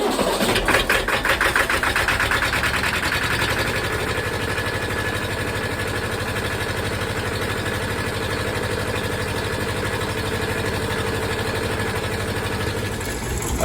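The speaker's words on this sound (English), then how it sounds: "this is the first start the tractor's had in like 4 months" An old tractor engine, first started in months with starter fluid, catches and settles into a steady, loud, close idle with a rapid mechanical chug throughout.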